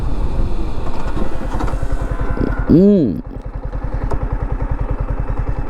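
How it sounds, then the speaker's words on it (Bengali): A Yamaha R15M motorcycle carrying a pillion does an emergency stop using both brakes with ABS. The engine pulses steadily throughout, and a brief rising then falling tonal squeal cuts in near the middle. "বাইকটা ফুললি মানে ইমার্জেন্সি ব্রেকিং করবো দুইটা ব্রেক একসাথে"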